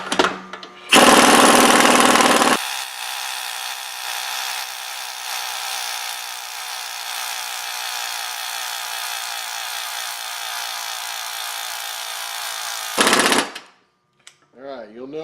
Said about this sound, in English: let's get a socket and an impact and run her on in